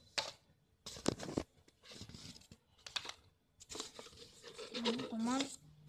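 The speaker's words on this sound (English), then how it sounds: "I'll take out all the cards once." Plastic-and-cardboard rustling and crinkling as Shifu Cosmos educational planet cards are pulled from their holder, in several uneven bursts with someone speaking in between.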